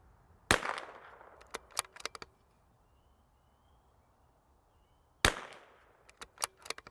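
A rifle fitted with an Arken EP5 optic is fired outdoors in groups, each sharp, loud report followed by a decaying echo, then a scatter of fainter distant shots between quiet stretches.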